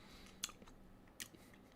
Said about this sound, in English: Sorry about the chewing sounds